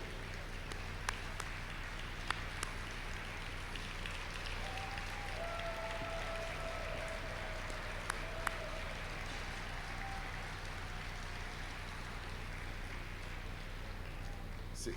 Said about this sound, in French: se lever pour qu'on puisse les applaudir